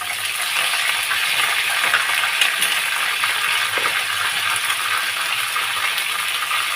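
Pointed gourd (potol) frying in a pan with a little salt and turmeric, giving a steady, even sizzle with faint stirring clicks throughout and no talking.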